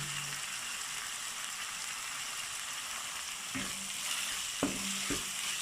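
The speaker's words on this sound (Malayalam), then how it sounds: "ഇത് നന്നായി പച്ചമണം മാറണ വരെ നമുക്കൊന്ന് നന്നായി വഴറ്റിയെടുക്കണം" Shrimp and plantain masala with garlic and curry leaves sautés in a pan, giving a soft, steady sizzle with a few light stirring knocks near the end.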